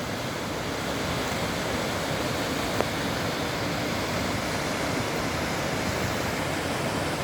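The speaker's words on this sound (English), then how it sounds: "see the waterfall," Continuous loud roar of falling water from the Cascata delle Marmore at Terni in Italy, broad and unbroken, with no voices.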